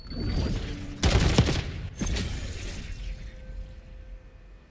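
A nail gun fires in Call of Duty Black Ops 6, a sharp burst of rapid shots followed by a second volley and a fading metallic ring.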